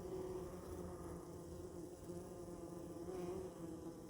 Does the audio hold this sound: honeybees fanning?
yes